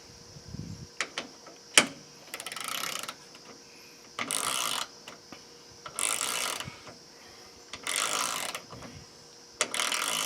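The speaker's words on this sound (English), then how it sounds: "Now we're going to do the gear wrench." A GearWrench 90-tooth ratchet being turned along a 2x4, giving a faint, fine clicking rasp in short repeated bursts, roughly every two seconds, with quiet gaps in between.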